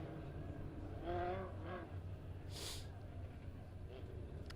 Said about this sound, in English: for the Legend cars as they roll out onto the backstretch